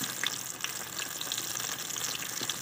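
Chicken legs deep-frying in oil, KFC style, make a dense, steady bubbling sizzle with crackling pops throughout, close and continuous with no talk.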